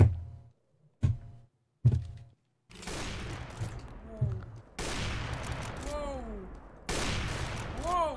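Gunfire in the video game CS:GO: three sharp single shots, then longer bursts of rapid fire with ringing tails, loud and close, with a voice speaking between them.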